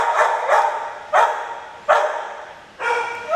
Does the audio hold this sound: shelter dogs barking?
yes